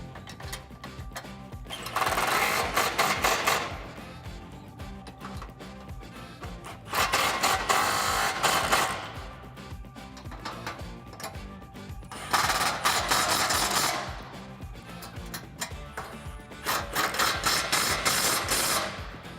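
Bolts tightened with a power tool while fitting a Rough Country bull bar to a 2016-2019 Toyota Tacoma, in four loud bursts of about two seconds each, separated by quieter gaps with no talk.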